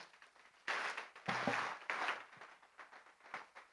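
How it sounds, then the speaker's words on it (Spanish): Congregation applauding during a church service, bursts of clapping rising and falling in waves, moderately loud and fairly close, with brief gaps between surges. "Dale un fuerte aplauso al Señor."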